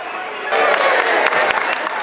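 Crowd cheering and clapping at a rooster crowing contest at the Minnesota State Fair swells up suddenly and carries on loud and close, with sharp claps and whoops popping out of a steady roar of voices.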